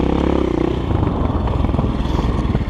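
GEON X-Road 250 PRO motorcycle climbing a hill, its engine pulling loud and steady with a continuous gritty drone and some rattle from the bike, close up and without talk.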